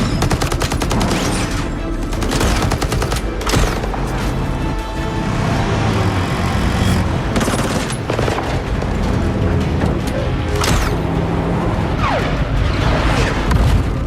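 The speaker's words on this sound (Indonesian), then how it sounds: "Dan lagi-lagi adu tembak pun tak terhindarkan." Sustained gunfight from an action movie, with dense bursts of gunfire, booming impacts and machine-gun rattles overlapping throughout, loud and continuous with no talk.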